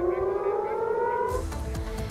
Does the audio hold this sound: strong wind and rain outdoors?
no